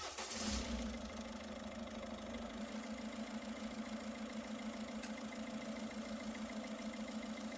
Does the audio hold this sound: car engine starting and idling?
yes